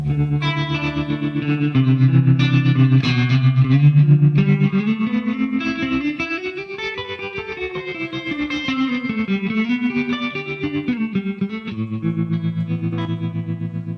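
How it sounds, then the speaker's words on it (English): Sustained distorted electric guitar chords pulse with a rapid wavering tremolo volume from a Line 6 HX Effects unit, thick with effects and reverb, playing continuously and loud. "We have all the modulation effects, so we've got things like a bunch of different types of tremolo."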